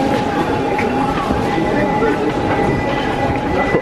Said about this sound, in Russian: Сейчас поедем на любимом метро.